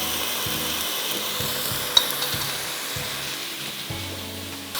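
Ground onion frying in butter with ginger garlic paste for a creamy chicken curry gives a steady, close sizzle and hiss that runs throughout, with one brief clatter partway through.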